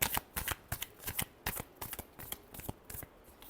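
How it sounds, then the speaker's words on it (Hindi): Tarot cards being shuffled by hand, a quick run of crisp riffling slaps and soft flutters repeating in close, busy bursts, up close with no one talking. "last shuffle"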